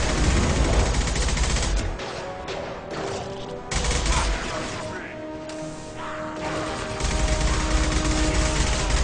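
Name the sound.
gunfire from a gun in video game Mass Effect 2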